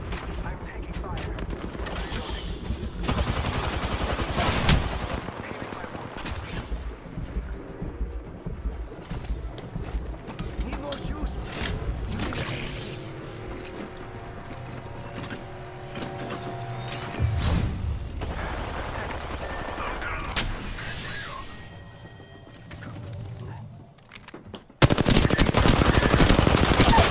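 Gunfire rattles in Apex Legends, a video game, with rapid automatic bursts and single shots layered over game effects, loud and dense throughout, with voices speaking over the action.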